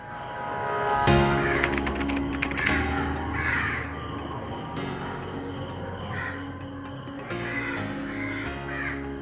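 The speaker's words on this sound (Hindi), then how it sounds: "होम स्टे में सुबह पक्षियों की आवाज और समुद्र के शोर से अचानक मेरी आंख खुल गई।" Crows caw repeatedly in the morning near Kovalam beach in Kerala, loud, close calls in short bursts over a steady background hum, with other birds faintly in the mix.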